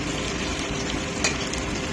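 Tomatoes added to a hot frying pan while making chicken, producing a loud, steady, close sizzle with a brief faint clink of stirring near the end.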